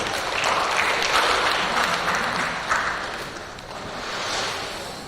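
Audience at a national working meeting applauding a Ministry of Finance team, heard as a moderate wash of clapping in a large hall that swells, eases and rises again over about five seconds.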